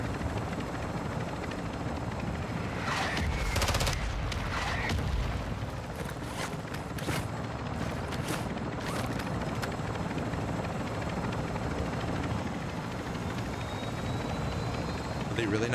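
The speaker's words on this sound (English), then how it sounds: "they're in the chopper." Steady helicopter rotor drone in the Call of Duty DMZ video game, continuous and loud throughout with scattered sharp clicks and thuds over it.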